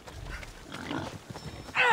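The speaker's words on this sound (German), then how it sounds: "Wie viele Schweine sind denn das hier?" Pigs grunting and snorting in the video game Assassin's Creed Odyssey, a short close cluster of oinks that ends in a louder squealing burst.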